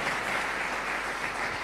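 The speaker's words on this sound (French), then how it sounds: "est-ce qu'on peut applaudir bien fort?" Audience at a church gathering applauding loudly, a steady, dense wash of clapping with no voices over it.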